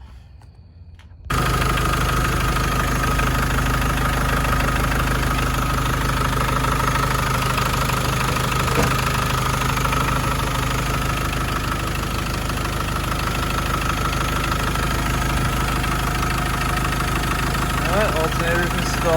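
A Land Rover Discovery 200tdi diesel engine starts up and idles steadily with a rough, clattering rumble and vibration for the rest of the stretch after a new alternator fit, loud and close, a voice speaking briefly over it.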